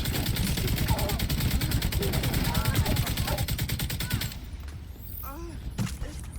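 Rapid automatic gunfire from The Division 2 rattles steadily for about four seconds and then stops, with a few scattered shots afterward. A voice talks over the shooting.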